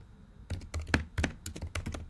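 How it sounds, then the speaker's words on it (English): Someone types on a computer keyboard, about a dozen quick, close keystrokes in short bursts over a couple of seconds, with nothing else heard. "I will type COVID-19"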